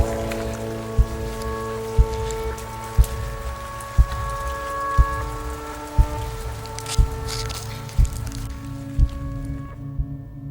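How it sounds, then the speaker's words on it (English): Steady rain falling at a campsite in Cascade River State Park, a constant wash of patter with a regular drip or tap about once per second, close and moderately loud, fading at the end. "It is still raining."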